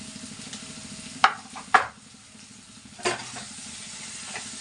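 Ginger garlic paste and turmeric are stirred into a cucumber curry, with a few sharp scrapes of a spoon against the pan over a steady low sizzle. No one speaks.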